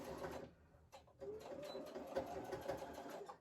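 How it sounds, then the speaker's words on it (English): A sewing machine back stitches along a face mask seam in quick, close bursts of mechanical whirring, with a short pause before it resumes stitching steadily. "I'm gonna make sure to back stitch. And stitch down the entire length."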